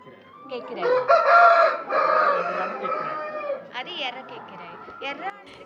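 Close, loud crowing from an Erra Nemali fighting rooster at a breeding farm, one long ragged crow followed by shorter calls and clucks, with a person speaking faintly in the background.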